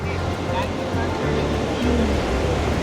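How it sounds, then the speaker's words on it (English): Ocean waves at Vodarevu beach near Chirala make a steady, loud rush of surf close by, and a low rumble runs beneath the spray for the whole stretch. "Just listen to the waves once."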